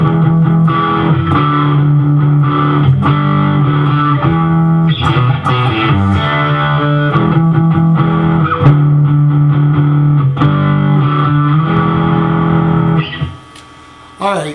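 Distorted electric guitar plays a song's break, chugging riffs and short melodic runs, loud and close, continuing for several seconds before cutting off near the end.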